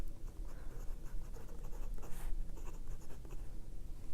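A Rotring 600 extra fine nib pen writing with Diamine Sapphire Blue ink on planner paper: close, faint, continuous scratchy strokes with small rhythmic pauses between letters, no voices.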